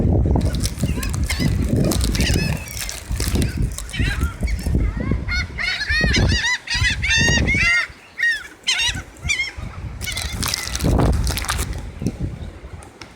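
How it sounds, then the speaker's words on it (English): Sea birds honk repeatedly in a noisy, goose-like chorus at close range, mixed with people talking and rustling throughout. "You want to feed a bird?"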